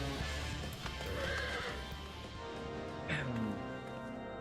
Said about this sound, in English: I'm gonna ride my horse inside the building.